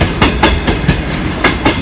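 Green Line express train rolling through Malir railway station in Pakistan, a steady clickety-clack of wheels over rail joints in quick repeating pairs, loud and close.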